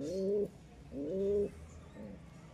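Pigeons cooing in a loft, three separate soft, throaty coos spaced about half a second apart, close and fairly quiet, with nothing else around them.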